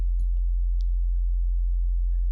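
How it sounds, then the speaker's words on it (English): A plain sine wave tone from the basic shapes in the Vital software synthesizer, a steady, pure, low pitch held throughout, with a few faint clicks and blips above it. "replace it with a factory basic shapes sine wave"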